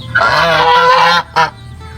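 A goose honks loudly close by, one long nasal call followed by a short second honk.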